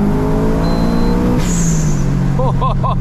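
A loud, tuned 470 hp Subaru Impreza STI engine with a built engine roars from close by, its pitch climbing as it accelerates, with a brief hiss and rapid pulsing near the end.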